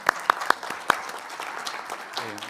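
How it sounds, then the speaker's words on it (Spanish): A few sharp, separate claps ring out from the audience at a welcome event for the Ciudad Emergente team, then fade into low room murmur, with a voice starting near the end. "equipo de Ciudad Emergente, que yo creo que deberíamos darle un aplauso"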